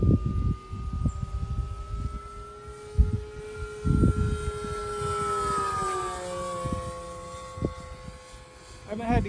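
RC H-King P-51 Mustang sports-scale model plane flying in stiff wind, its steady electric motor whine drifting in pitch, with buffeting wind gusts and someone talking over it.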